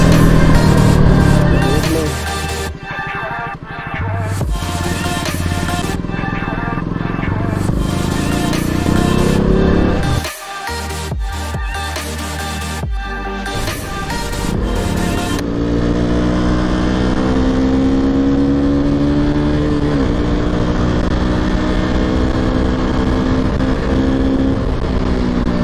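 KTM RC 200 motorcycle ridden along Mughal Road, engine droning and revving through gear shifts with rising pitch sweeps near the end, wind buffeting early on and a rider talking over it at times.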